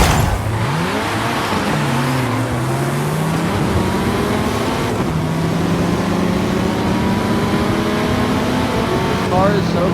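A fast race car engine in Forza Horizon 5, loud and up close, rising and falling through gear changes and revving hard across the whole stretch, with a voice talking over it.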